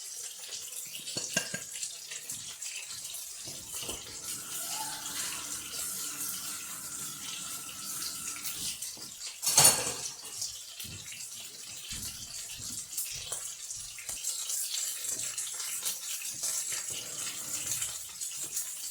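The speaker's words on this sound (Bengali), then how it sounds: "একটু জল দিয়ে দিলাম মশলাটা কষানোর জন্য।" Water pours into a pan of salt, turmeric and spice paste being fried for a perch fish curry, a faint steady trickle with one brief louder splash partway through.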